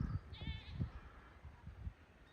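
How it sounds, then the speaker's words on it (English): Spanish goats on a farm let out a faint bleat over a low, busy background of rustling and animal movement, somewhat distant. "The goats are moving out now, and the heifers are still drinking."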